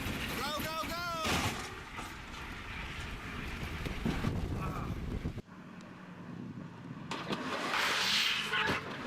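A movie car crash: loud engine roar and rumbling impact noise with wind-like rush, a hard cut midway into a quieter stretch, and a voice speaking over it.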